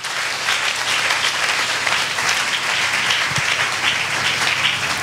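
A church congregation applauding in acclaim of the Lord during a French-language deliverance service, a steady, dense wash of clapping from many hands throughout, with no speech over it.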